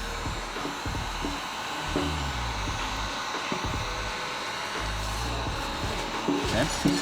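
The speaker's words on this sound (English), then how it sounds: "Keep your heat gun on." A heat gun blows with a steady airy hiss while heat shrinking the back window of a Corvette, running continuously at close range beneath intermittent talk.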